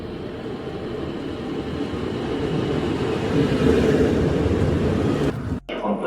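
Interior of a moving train during a ride in Germany: a steady, loud rolling rumble with a rattling undertone that swells slightly, then briefly drops away near the end.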